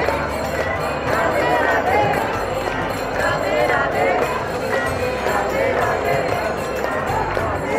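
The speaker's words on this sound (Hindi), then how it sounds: "श्रीधाम बरसाना में इस तरीके से श्रद्धालुओं की खासी भीड़ है।" A dense crowd of pilgrims at the Barsana ropeway in Shri Dham Barsana fills the air with constant babble, shuffling feet and scattered voices, steady and close throughout.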